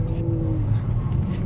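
A turbocharged Nissan 350Z road car drifting in light drizzle gives a close, loud, droning engine note, held steady with slight rises in pitch.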